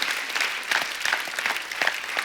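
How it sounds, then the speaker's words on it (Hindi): A comedy talk show studio audience claps for a group of guests. The applause is lively and moderately loud, made of dense hand claps with small rhythmic surges, and no speech is heard over it. "एक बार जोरदार तालियां हो जाए लक्ष्मी, रितु, जीतू, कुंती एंड बाला के लिए."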